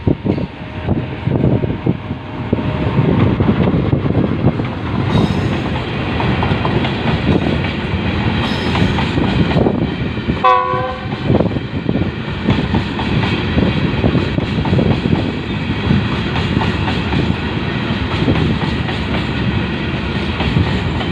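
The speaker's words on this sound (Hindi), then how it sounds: "इस वक्त एक मालगाड़ी आते हुए जो आपको सामने नज़र आ सकती है।" A freight train rolls into Bahawalpur railway station in Pakistan with a loud, continuous rumble and clatter of wagons and a brief sharper metallic whine partway through, heard without speech.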